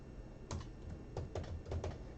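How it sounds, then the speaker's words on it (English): Typing on a computer keyboard with a few soft clustered keystrokes, spaced irregularly and fairly faint, with no voices over them. "I was just typing away, happily typing away."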